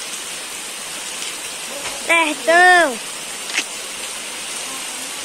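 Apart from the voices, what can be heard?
heavy rain falling in Ceará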